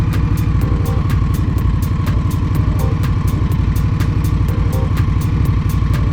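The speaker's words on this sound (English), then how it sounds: "I'm feathering the clutch. I have my foot on the brake, the clutch, and I'm gassing it." Indian Scout Bobber motorcycle engine running steadily close by, a loud, even throbbing idle-like pulse with faint rhythmic clicking, as the rider slips the clutch and feeds in gas little by little.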